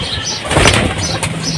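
Wings flap in a quick flurry as pigeons take off nearby, a short burst of fluttering beats.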